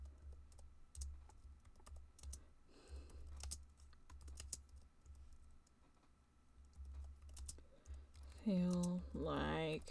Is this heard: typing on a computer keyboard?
yes